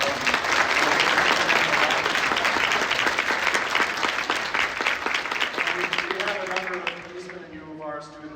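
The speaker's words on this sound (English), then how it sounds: "How about a round of applause?" A large theatre audience at a TUBA Christmas concert applauds Eastman students, loud dense clapping that fades after about seven seconds as a voice begins speaking over the tail.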